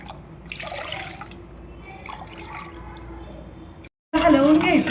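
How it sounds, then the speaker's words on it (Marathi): Cold water from a clay pot is poured from a small pot for raw mango panha: splashing, dripping liquid with wet squishes under a voice, ending in a louder burst of pouring after a brief pause. "आता 1 तांब्या पाणी घेतलं. पाणी घ्यायचं थंड माठातलं"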